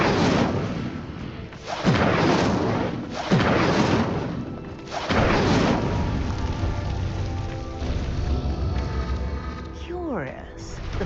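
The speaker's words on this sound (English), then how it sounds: "The flames make the pyre sink." Incendio fire spell in Hogwarts Legacy, heavy whooshing flame bursts roaring in several waves and sinking stone rumbles, loud and dense, with a faint magical shimmer near the end.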